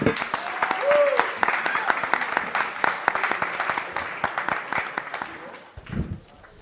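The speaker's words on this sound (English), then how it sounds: "One last round of applause, please, for our debater." Audience applause at a Bitcoin conference main stage in Austin after a debate, dense clapping sustained for several seconds before tapering off, with a brief low thump near the end.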